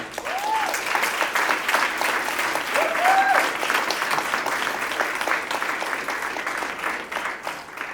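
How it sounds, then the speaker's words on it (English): Enthusiastic audience applause at a Biennale curatorial panel honors the staff, with a sustained, even roar of many hands clapping at close range and a few faint whoops rising above it. "all of these people really deserve an applause"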